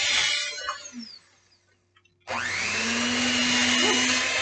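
An electric mixer whirs through zucchini muffin batter, loud and close, cuts out briefly, then starts again with a rising whine and runs steadily.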